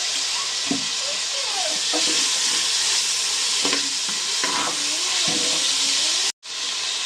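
Tomatoes and ginger fry in a pan for chicken dum biryani with a loud, steady hissing sizzle and occasional stirring scrapes, ending in a brief dropout near the end.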